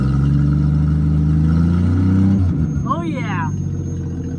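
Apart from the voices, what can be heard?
Studebaker car engine revving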